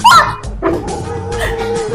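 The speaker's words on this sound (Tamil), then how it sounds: "ஐயோ நாய் கடிக்குது நாய் கடிக்குது" A dog yelps and barks in short, high bursts nearby inside a house, mixed with excited human voices.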